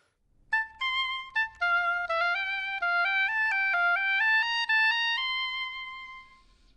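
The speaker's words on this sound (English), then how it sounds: "I'll be playing the oboe today, and it sounds something like this." Oboe played by an orchestral symphony musician: a solo melodic line of sustained, reedy notes with clear steps in pitch, ending on a long held note that fades away. It sounds close and clean, with no talking.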